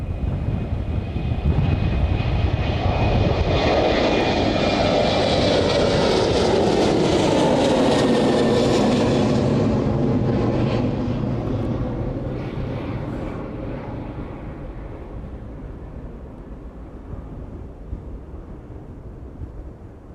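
A jet airliner departs East Midlands Airport in the evening with a loud, sustained roar that builds, peaks and slowly fades as it climbs away, gusty wind buffeting the microphone.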